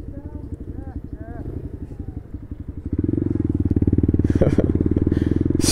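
A moped's small engine putters with a rapid, even thumping close by, then grows louder and fuller as it pulls away, with someone talking over the first part.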